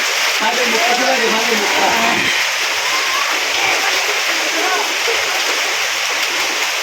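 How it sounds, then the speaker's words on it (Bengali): Rain pours steadily at a grandparents' village home, a dense continuous wash of falling water and splashing, with voices talking faintly underneath. "এখন আবার আজকে বৃষ্টি আসছে"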